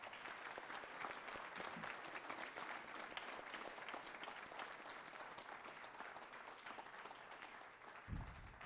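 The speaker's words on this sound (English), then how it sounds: "How about another round of applause for Robert?" Audience applause at a school spring band and orchestra concert, a continuous soft patter of clapping heard from some distance, ending with a brief low thump.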